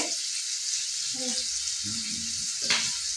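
Three chopped onions fry in about three spoonfuls of oil, giving a steady close sizzle throughout, with a few faint vocal sounds over it.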